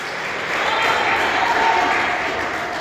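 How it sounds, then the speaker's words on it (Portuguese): Church congregation clapping steadily together for a few seconds, a dense, even wash of many hands with faint voices murmuring beneath. "Palmas para Jesus."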